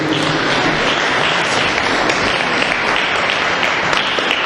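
A church congregation applauding and cheering the Lord during a sermon, steady dense clapping and crowd noise that fills the room without pause.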